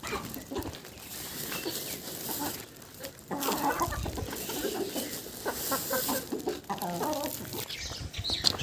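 Backyard chickens cluck busily while grain is scattered for them, a close, continuous stream of clucks and squawks with one bird louder near the end, with no talk.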